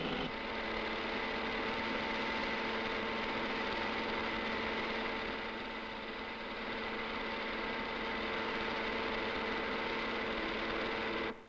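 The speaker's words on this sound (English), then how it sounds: "The time has come for the experimental petrols to be put to practical test in engines like these, normal car engines on test mounting." Normal car engines on test mountings in a 1950s petrol testing laboratory run continuously, a steady droning hum with a dense mechanical buzz that holds level throughout, with no talk over it.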